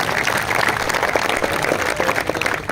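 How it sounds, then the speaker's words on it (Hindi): Loud, dense clapping from a crowd gathered at a protest, honoring an elderly woman, a steady close burst of applause that holds strong throughout. "हमारी ताई जी के लिए भी जोरदार तालियां हो जाए"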